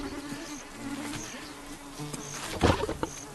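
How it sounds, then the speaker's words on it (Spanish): Flies buzzing around lions resting in the wild, a close, steady drone with individual insects passing by, plus a brief louder rustle near the end. "las moscas son las que siempre salen victoriosas"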